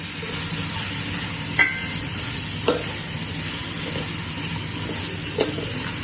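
Mutton keema fries in oil with a steady, close sizzle while a spoon scrapes and stirs the pan, giving a few sharp knocks against the metal.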